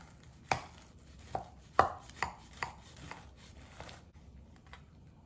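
A knife cuts through cooled chocolate treats on a board with a series of crisp, close chops, about seven irregular knocks of falling loudness over a quiet background.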